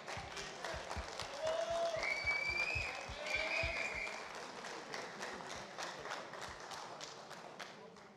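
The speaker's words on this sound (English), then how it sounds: "an applause." An audience applauds at a superheavyweight fight event, a fairly faint patter of clapping that swells and then tapers off, with a few scattered voices mixed in.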